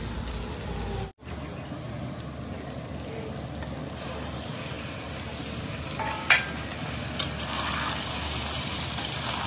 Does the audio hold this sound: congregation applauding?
no